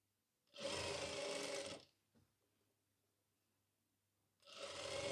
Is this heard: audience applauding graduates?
no